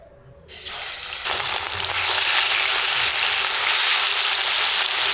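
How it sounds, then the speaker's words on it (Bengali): Pieces of rui fish frying in hot oil, a steady loud sizzle that swells after a brief quieter start and holds without pause, with no voices. "এখন বাকি পিসগুলোও ভাজবো"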